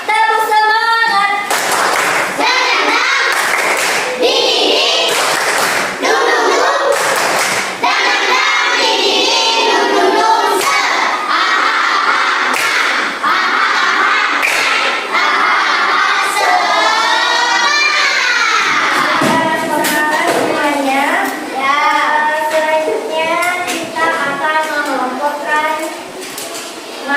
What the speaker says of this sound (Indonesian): Oke, sebelum itu tepuk semangat.